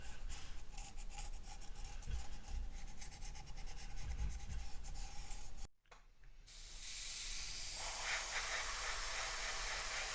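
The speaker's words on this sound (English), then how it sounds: "So I'm just going to get a slight sand" A model ship's lower main mast for a 1/84 Deagostini HMS Victory is lightly sanded before painting, giving a steady close rasping rub that breaks off briefly, then a smoother continuous hiss.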